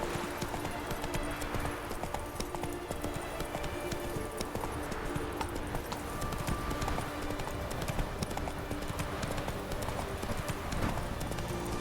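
Hooves of Roach the horse in The Witcher 3 clip-clopping at a brisk, continuous pace, close and steady throughout, with busy background ambience.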